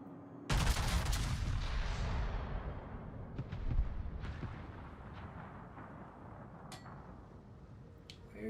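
Battleship main guns firing at a fort in World of Warships: one huge booming salvo that slowly rolls away, followed by several sharper distant shots and thuds, with no talk over it.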